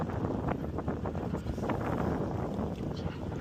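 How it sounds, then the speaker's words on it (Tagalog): Strong wind ahead of an approaching typhoon roars and buffets steadily against the microphone, a constant rushing noise with no voices. "Malakas ang hangin."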